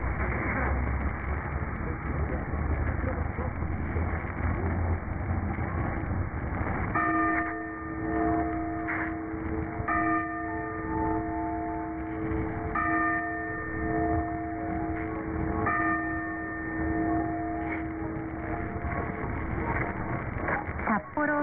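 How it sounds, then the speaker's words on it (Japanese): A clock tower bell chimes the 4 p.m. hour on an AM radio broadcast, several sustained ringing strikes spaced a few seconds apart over steady noisy radio hiss. "時計台の鐘が午後4時をお知らせします。"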